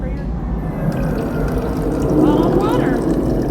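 Water pours and fills a bottle at a water filling station at Disneyland Resort, a steady splashing rush rising slightly in loudness amid a busy outdoor crowd background with voices.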